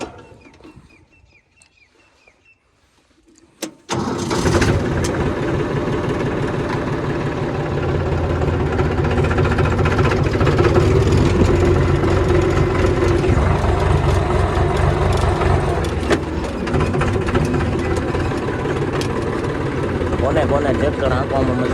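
A tractor engine starts after a few quiet seconds and then idles steadily, a loud, close, continuous low rumble with vibration that holds for the rest of the clip.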